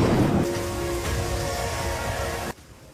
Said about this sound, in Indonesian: Petir pun bergemuruh. Hujan badai datang dan membasahi Raya Lasema yang telah lama dilanda